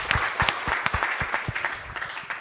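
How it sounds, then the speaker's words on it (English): Applause from a Bitcoin conference audience in Austin, loud and close, with distinct individual claps in a quick, uneven rhythm over a short burst. "Everyone, a round of applause."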